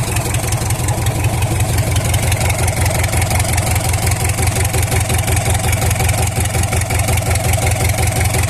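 Mitsubishi 4D30 diesel engine running strong, a loud, close, steady rhythmic knock and rumble throughout with no talking.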